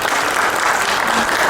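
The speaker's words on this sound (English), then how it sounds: "Round of applause." Audience applause at a program event, a dense, loud burst of many hands clapping together that stays steady throughout.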